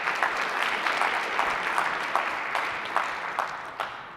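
A crowd at an MIT entrepreneurship pitch competition gives sustained, full applause for the evening's pitches, thick clapping throughout with scattered sharper claps standing out.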